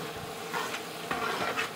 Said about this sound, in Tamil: இப்போ இந்த வெங்காயத்தை நல்ல செவக்கிற அளவுக்கு வதக்கிக்கலாம்